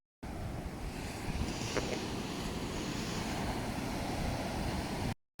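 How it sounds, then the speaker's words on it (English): Rough sea waves roll and wash continuously at Whitby pier in the dark, a steady broadband roar mixed with wind buffeting on the microphone. "I know you can hear the waves going"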